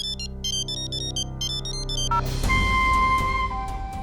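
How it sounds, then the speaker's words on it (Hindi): A mobile phone's electronic ringtone plays in repeated melodic bursts, then shifts to a sustained tone with a rising swell of background sound. "किसका फोन है?"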